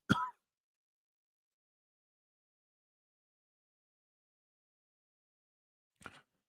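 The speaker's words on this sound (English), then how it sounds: "I had to get that good cough out." A man clears his throat and coughs during a live stream: one short, sharp burst at the start, then six seconds of silence before a fainter, brief second cough.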